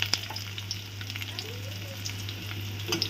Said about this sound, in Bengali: আমি একটা তেজপাতা ছাড়ছি তেলে, এখন পেঁয়াজ ছাড়ছি।